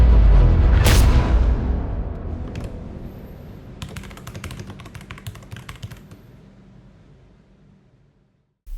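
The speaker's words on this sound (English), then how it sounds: "slamming my face onto your keyboard" A face slammed onto a computer keyboard: one heavy thump and clatter of keys at the start, followed by a scatter of lighter rattling key clicks that fade away into near silence.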